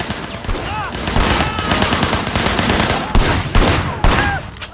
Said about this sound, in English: firing shots from the passenger window